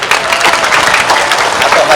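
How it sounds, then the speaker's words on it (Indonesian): A crowd at a regional send-off ceremony breaks into brief, dense applause, loud and close, with no pauses across the short burst. "Tepuk tangannya petani ditambah tepuk tangan untuk beliau."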